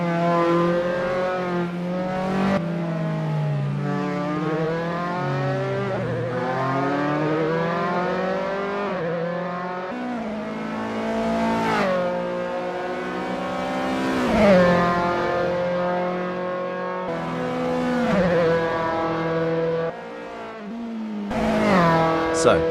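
A Dallara F312 race car on an out lap in Assetto Corsa, its engine whining up through the gears in repeated rising sweeps with sharp shifts and dips for corners, while a commentator talks over it.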